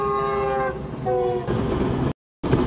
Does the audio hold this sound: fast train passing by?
yes